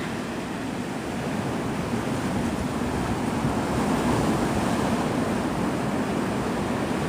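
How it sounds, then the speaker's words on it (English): Steady rushing roar of ocean surf washing onto Navarre Beach, Florida, at sunset, continuous and fairly loud with no voices. "sound of the ocean's gorgeous"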